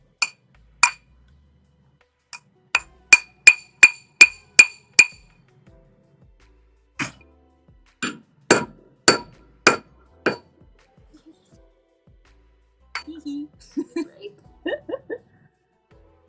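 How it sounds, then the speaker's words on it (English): Hammer blows striking onyx set in epoxy, a series of sharp ringing clinks in quick succession, then a scattered group of heavier taps, with a voice talking during pauses. "Should I use a bigger hammer?"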